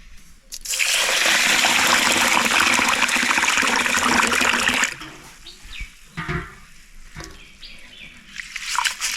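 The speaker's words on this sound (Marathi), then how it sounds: "हे तांदूळ आपल्याला ना दोन तीन वेळा चांगले असे स्वच्छ धुवून घ्यायचे आहेत" Ration rice is rinsed under a strong rush of running water for several seconds, then lighter sloshing and splashing as the grains are swirled clean in a vessel.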